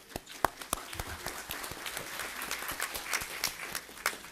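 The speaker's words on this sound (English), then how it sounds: "Let's give them a round of applause for." Audience at a Fayetteville city council meeting applauds, a scattered, moderately quiet patter of clapping with distinct individual claps standing out, steady throughout the stretch without talk.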